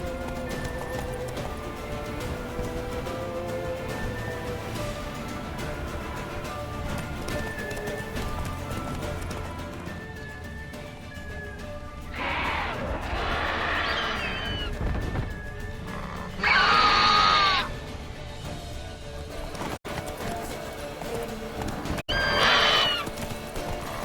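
A horse in The Witcher 3 gallops with steady, rhythmic hoofbeats under game music, then gives several loud, shrill neighs and whinnies in the later part.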